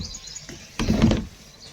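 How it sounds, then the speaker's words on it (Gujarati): Sparrows chirp faintly on a rooftop terrace over a busy background hiss, with a short louder rustling burst in the middle. "અને તમે જો કલરવ છે ને ચકલાનો"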